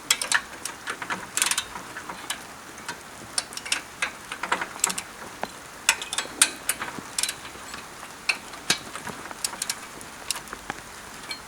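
A ratchet clicks in short bursts while bolts are torqued down on a Trabant engine housing, with sharp metallic ticks spaced irregularly and no talking.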